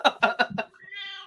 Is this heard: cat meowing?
yes